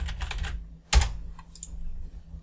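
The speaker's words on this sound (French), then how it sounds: "je vais appuyer sur la touche R de mon clavier" A single sharp computer keyboard keypress, the R key, struck once in a quiet room during video editing work in Sony Vegas Pro 13, with faint key clicks before and after.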